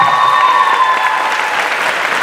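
Audience at a concert event at Yerevan State University claps in steady, dense applause with a faint sustained tone lingering underneath.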